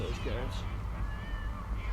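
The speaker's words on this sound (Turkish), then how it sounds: "Ve kedi miyavlama sesi geliyor." A cat meows a few times faintly over a steady low rumble and background noise in the video game GTA 5.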